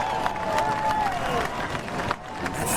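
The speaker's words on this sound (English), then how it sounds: "The crowd erupts." Spectators at the Billabong Pipe Masters surf contest erupt in cheers and applause after a quarterfinal wave ride, a loud burst of clapping and shouting with a brief dip midway, while a voice carries over it.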